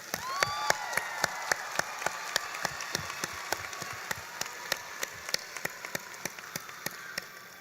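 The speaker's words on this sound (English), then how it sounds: "So let's give them all a round of applause that they deserve." Graduation crowd at a high school ceremony clapping in a steady, even rhythm, sharp claps at about four per second over a faint hiss, continuing for several seconds without speech.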